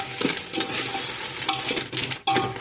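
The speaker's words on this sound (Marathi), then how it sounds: "तर बघा मिक्स करून घ्यायचं आहे" Spicy village-style crab curry being stirred and mixed in a pan: repeated scraping stirring strokes over a continuous close sizzle, with a few louder clanks against the pan.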